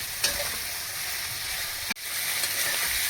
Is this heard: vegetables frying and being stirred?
yes